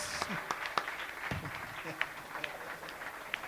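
An audience claps for a guest at a festival Q&A, scattered hand claps in a room mixed with ongoing talk.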